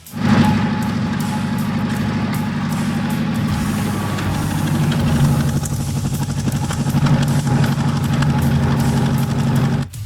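A steady low engine idle from a Cadillac Seville rumbles through its exhaust silencers for the whole stretch, even and continuous, close up with no voices.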